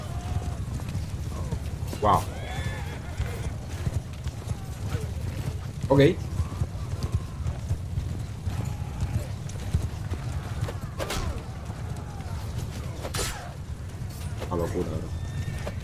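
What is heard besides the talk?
horse archers galloping in a video game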